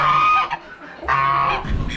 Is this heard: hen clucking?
yes